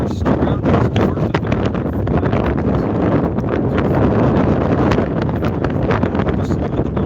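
Strong, gusty wind at a varsity baseball field roars steadily across the microphone, a loud, dense buffeting rush with no clear pauses.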